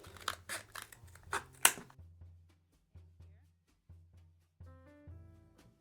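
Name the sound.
scissors cutting a toilet paper roll ring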